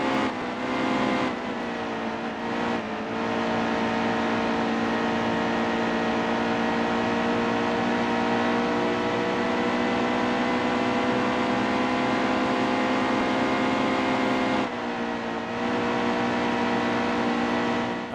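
Race car engines droning steadily at high revs in the NASCAR Heat 2 racing game, a dense continuous roar of several cars running side by side on the final lap, with brief dips in the engine note and no talk.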